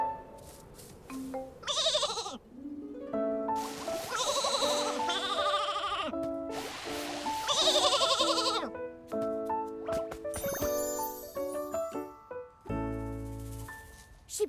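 A sheep in the Infinity Nikki video game bleats several times over about fourteen seconds, wavering cries mixed with bright game music and chimes, fairly quiet overall.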